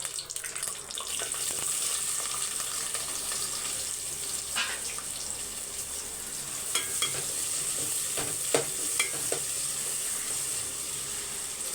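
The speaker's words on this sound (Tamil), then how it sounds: "இப்போ வந்து வெங்காயம் வதங்கட்டும்" A single large onion sizzles and is stirred in coconut oil with cloves, cinnamon, star anise, kalpasi and marathi moggu for a chickpea biryani: a steady close frying hiss with scattered scraping clicks of the spoon.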